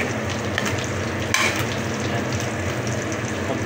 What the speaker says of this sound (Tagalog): Igisa na natin yung bawang.